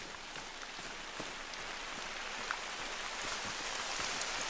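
Rain in theHunter: Call of the Wild falls in a steady, even patter, with droplets tapping on surfaces all around and no voices over it.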